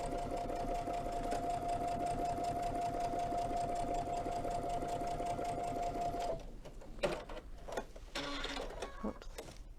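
Sewing machine top stitching at a steady fast whirring hum for about six seconds, then stopping, followed by faint handling sounds and rustling of fabric.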